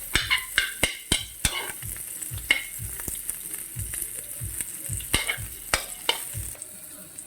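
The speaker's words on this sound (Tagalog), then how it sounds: "Magpapainit tayo ng kawali. Mag-a-add ng oil. Gisa." Aromatics sautéing in hot oil in a kawali, a steady close sizzle punctuated by repeated sharp spatula clacks against the pan at an uneven stirring rhythm, with no voices.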